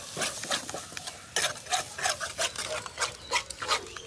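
Spices and whisked yogurt for chicken leg biryani being stirred and fried in a pan, giving repeated scraping, rubbing strokes with a faint sizzle underneath, close and fairly quiet, with no talking.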